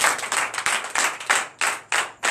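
Congregation clapping in rhythmic bursts at a Friday night deliverance and prophecy church service, steady repeated claps ringing out loud and close with no voices over them.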